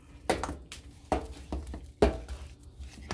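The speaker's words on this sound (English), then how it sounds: "stir all this up" Spoon clinking and scraping against a bowl while herb butter is stirred, three or four distinct close taps with quiet scraping between them.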